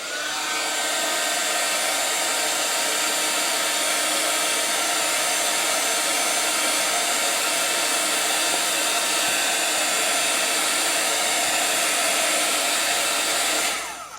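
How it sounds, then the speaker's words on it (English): A heat gun blows steadily while finishing a crafted butterfly, a constant loud airy whoosh that holds level for the whole stretch and then cuts off at the end, with no talking. "to finish off my butterfly, I would blast it with a heat gun"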